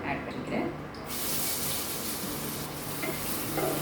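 Two medium onions, finely chopped, hit a hot pan for mint coriander rice and are stirred, bursting into a steady, fairly loud sizzle with scraping stir noises after about a second of quieter kitchen sound.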